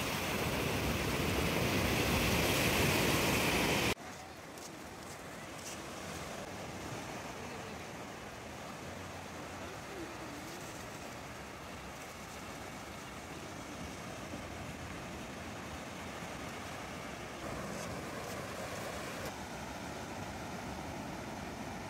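Surf washing steadily onto Majorda Beach in South Goa, a continuous broad wash of breaking waves with some wind noise, preceded by a louder, harsher burst in the first few seconds; no one speaks.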